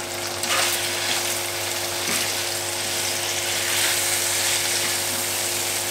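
Smoked bacon being stirred with sweet, smoky spices in a pan, a dense, even frying hiss close to the mic with a faint steady hum beneath and no voices.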